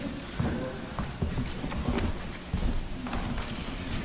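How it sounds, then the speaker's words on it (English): Hard, steady rain falls outside, a continuous dense patter with scattered louder drops and thuds throughout. "It's raining pretty hard."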